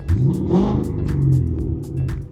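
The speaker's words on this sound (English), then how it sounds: "It is a catless exhaust with Borla Type S mufflers." A turbocharged car with a catless exhaust and Borla Type S mufflers revs in a few sharp bursts, a deep throaty exhaust rising and falling close by, loud with no voices.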